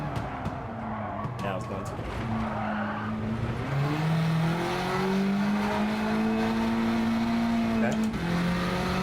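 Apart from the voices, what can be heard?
race car driving on a track in a racing video game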